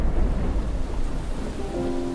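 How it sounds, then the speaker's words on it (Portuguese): Deep thunder rumbles as rain begins to fall in a steady, loud wash, with no voices over it. "Ouviu-se o estampido do trovão e o lampejo do relâmpago"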